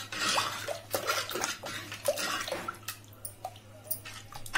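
Water poured into dal rasam, Rayalaseema-style lentil soup, in a home kitchen: soft, uneven splashing and dripping trickles, close and fairly quiet, with no talk over it.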